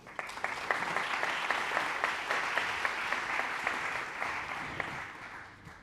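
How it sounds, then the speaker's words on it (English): An audience at a panel discussion about employee engagement claps together in sustained, dense applause that starts full and fades slowly near the end, with no speech over it. "please give them a round of applause"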